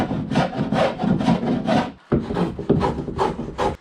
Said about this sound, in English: I have to get in there with a slit or big chisel